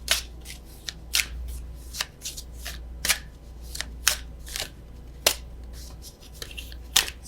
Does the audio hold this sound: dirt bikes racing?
no